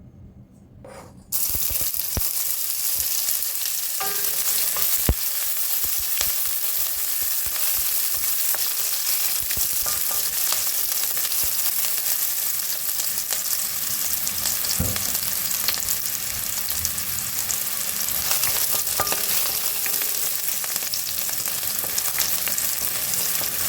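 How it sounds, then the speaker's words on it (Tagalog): Onions and garlic sauté in a pan for a stir-fried vegetable lunch, a loud close sizzle that starts abruptly and holds steady as a dense crackling hiss, with occasional light knocks and no speech. "Magsusote na tayo ng ating sibuyas and bawang."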